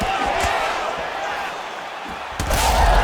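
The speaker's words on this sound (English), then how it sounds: "She landed a beautiful punch here" A punch lands in a UFC 5 video game women's bout, a sharp thudding impact followed by a surge of crowd roar, with commentator talk running underneath.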